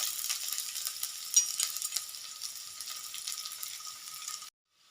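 Jackfruit seeds sizzle steadily in hot oil in a pan, a bright, even crackle with occasional sharper pops, close and alone, cutting off abruptly near the end.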